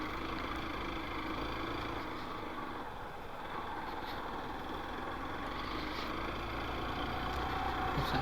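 A vehicle engine pulling up a steep slope in second gear on a road near Kanthalloor, Kerala, a steady strained drone heard from close by, with a slight rise in intensity toward the end.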